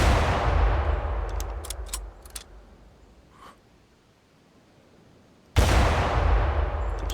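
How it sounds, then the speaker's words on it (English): Gunshots from a video game while hunting dinosaurs, a loud burst of several sharp cracks, then a quieter lull before another heavy blast of gunfire erupts near the end. "I just thought I'll shoot all 3 of them"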